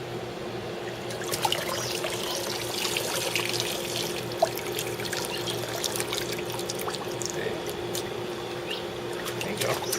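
Water pours and trickles in a backyard kiddy pool, a soft steady splashing and dribbling close by, with faint talk in the background.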